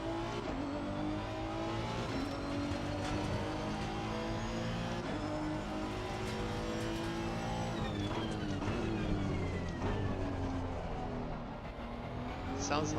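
A Ferrari Evo GT race car in Assetto Corsa Competizione holds a loud, steady engine drone with rising and falling revs through gear changes for the whole stretch, while someone talks over it.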